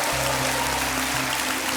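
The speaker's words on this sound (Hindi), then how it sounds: "तालियां।" A studio audience on a game show claps in a steady, even wash of applause, with a low hum running underneath.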